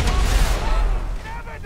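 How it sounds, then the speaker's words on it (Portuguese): A bomb goes off inside a shop in a favela-set video game, a loud blast that opens the clip and then rumbles and fades, while people talk over it. "Bota a bomba ali, vou jogar a bomba dentro da loja lá"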